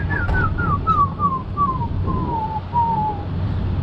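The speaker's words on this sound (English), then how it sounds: "They have a really pretty song that's a tumble of descending notes." A small long-beaked bird that nests in canyon walls in Yosemite sings a clear, slurred series of descending whistled notes, each a little lower than the last, over a steady low background hum.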